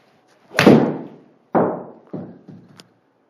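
Golf shot struck on a driving range: a sharp club-on-ball impact, followed by a few further distinct thuds at irregular intervals, fairly close and loud with short decays and no talk.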